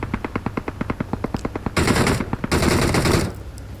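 Rapid automatic gunfire in a battle royale video game: a steady rattling burst of single shots, then denser, louder overlapping fire, close and alone with no talking.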